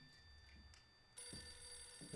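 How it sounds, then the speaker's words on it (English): A telephone rings inside a space-themed comedy, its bright tone sounding faintly over a soft background hum after a sudden jump in level. "The phone is ringing."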